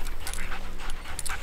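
Huskies on a sledding team pant rapidly and rhythmically close by, quick breathy bursts repeating throughout the short stretch with no talking.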